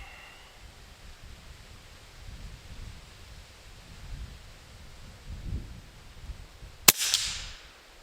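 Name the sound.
357 revolver gunshot, Slayer 100 grain hollow point slug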